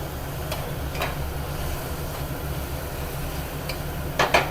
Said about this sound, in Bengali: চিকেনটা দিয়ে দিই চিকেনটা দিয়ে খানিক্ষণ নাড়তে হবে